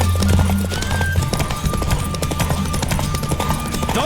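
A horse gallops in a race in the Witcher 3 video game, rapid rhythmic hoofbeats pounding loud and close throughout, with a brief whinny near the start and other game sounds mixed in.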